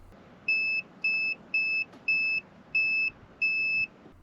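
Multimeter continuity beeps while testing headlight wiring from connector to fuses on an old Honda CRX, six short, clear, evenly spaced tones close up over a quiet background, no talking.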